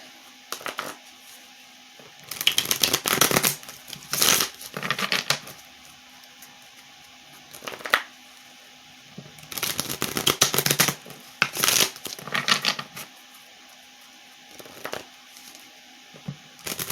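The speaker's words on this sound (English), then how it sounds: "And don't say anything about how many times I shuffle, because I shuffle until I want to." A deck of tarot cards being shuffled in repeated riffling bursts of crisp, rapid flutter, close to the microphone, separated by quiet pauses.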